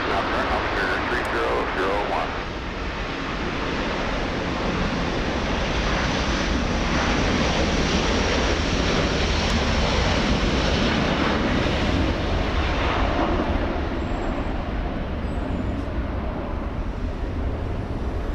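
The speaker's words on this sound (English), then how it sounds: "let's go to the Delta Heavy A330neo flying to Japan" A Delta Airbus A330neo airliner bound for Japan takes off at Los Angeles International Airport, a continuous heavy jet roar filling the whole stretch with faint voices at times beneath it.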